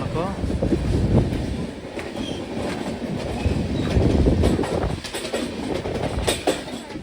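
Inside a crowded general coach of the Ratnachal SF Express, the train runs along with a continuous loud rumble and rhythmic clatter of wheels on rail joints, close and unbroken, with faint voices mixed in.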